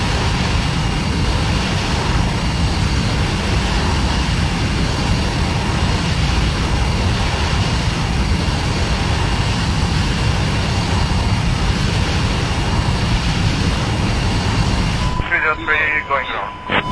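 Steady, loud roar of airliner jet engines on Pakistan International flight 8303 during a go-around, filling the cockpit continuously before cutting off abruptly near the end.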